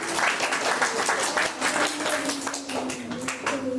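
An audience at a gurukul gathering claps loudly and continuously, a dense rush of hand claps with a faint sustained tone running underneath.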